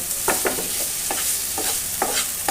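Kohlrabi sizzles steadily in oil in a pan, with a utensil stirring and scraping in short, repeated strokes through the constant frying hiss.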